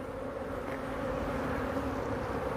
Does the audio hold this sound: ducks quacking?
no